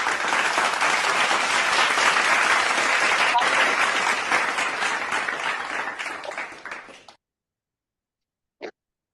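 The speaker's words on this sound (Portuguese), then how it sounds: "saudemos virtualmente com palmas o pavilhão nacional" A crowd applauds steadily for several seconds at a virtual meeting, saluting the national flag; the clapping thins and stops, then silence with one brief sound after.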